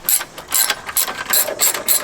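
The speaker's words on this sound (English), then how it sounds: "But all right, let's take these brackets off." A ratchet wrench clicks in quick, loud bursts while brackets come off a turbocharged van, several short runs of ratcheting separated by brief pauses, close up with no talk.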